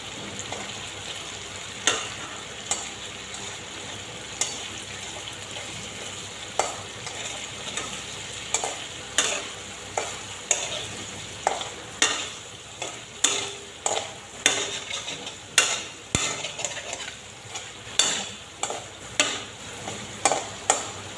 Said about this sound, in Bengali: এখানে কয়েক টুকরো পনির তেলের মধ্যে ভেজে নিচ্ছি।